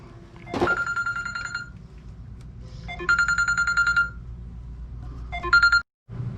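A telephone rings during a Reme HALO-LED air purifier install, with three bursts of electronic ringing at a steady cadence, fairly loud and close over a low background hum, with no talking.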